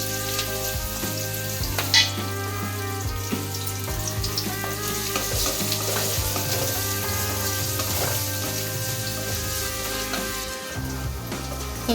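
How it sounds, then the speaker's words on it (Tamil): Two medium-size onions, lightly cut, sauté in hot oil for a Chettinad chicken gravy, a close, continuous sizzle with occasional stirring clicks and steady tonal music underneath. "இப்போ வெங்காயம் நல்லா வதங்கிடுச்சு."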